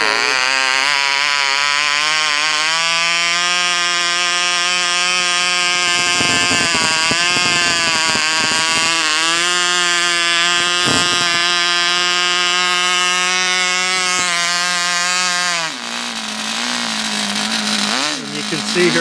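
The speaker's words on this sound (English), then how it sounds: "you can see here I throttled it back to idle" A homemade engine fitted with an exhaust throttle drones loudly and continuously, its buzzy harmonic note wavering and dipping at moments before settling lower as it is throttled back toward idle.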